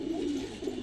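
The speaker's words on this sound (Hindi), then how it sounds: "बहुत ही शानदार कबूतर" A Saharanpuri pigeon coos in a low, steady, throaty murmur that rolls on without a break, heard up close with nothing else.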